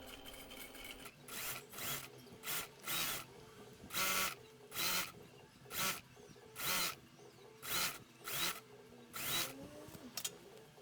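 A sewing machine straight-stitching lace onto flowy bloomers runs in short bursts, about a dozen separate runs of stitching with brief pauses between, close and steady.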